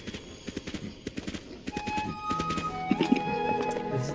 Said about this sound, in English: You just catch a horse.